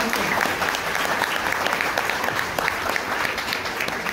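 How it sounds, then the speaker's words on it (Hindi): Loud, steady applause from an audience at a network training gathering in Mahoba, dense clapping from many hands held at an even level throughout, with a faint murmur underneath. "एक बार जोरदार ताली"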